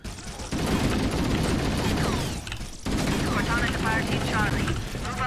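Rapid turret gunfire crackles almost continuously in Halo's Truth and Reconciliation mission, loud and dense with a brief dip midway, while voices talk over the shooting.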